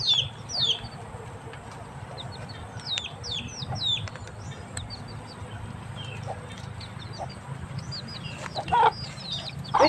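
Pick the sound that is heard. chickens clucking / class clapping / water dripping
chickens clucking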